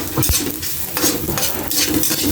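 Ginger stirred in a pan during rural Filipino cooking, with a close sizzle mixed with clattering spatula scrapes and knocks against the pan, uneven and fairly loud.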